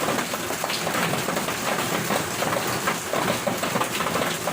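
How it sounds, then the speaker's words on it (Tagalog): Heavy rain falls in a constant, dense hiss with scattered drops pattering on a surface. It stays loud and even throughout, with no pauses and no talking. "maingay talaga yung ulan"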